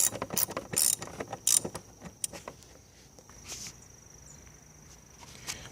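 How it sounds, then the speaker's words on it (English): Extended T25 socket ratchet loosening bolts on a Volkswagen air intake, a run of close, crisp ratcheting clicks at first, then quieter scattered clicks. "For the hard to reach bolts, I've used this extended socket T25 to remove it."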